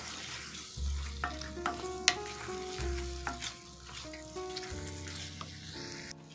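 Penne pasta being stirred into a creamy cheese sauce with smoked beef sausage in a hot pan, with steady sizzling and frying plus repeated scraping, clattering stirring strokes, close and alone.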